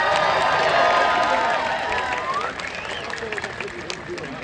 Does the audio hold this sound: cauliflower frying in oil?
no